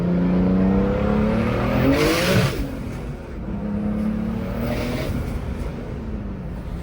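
A turbocharged BMW E36 fitted with an M50 engine revs hard, its pitch climbing and dropping in repeated sweeps before settling into a lower, rumbling idle-like blip, loud and close with no talking.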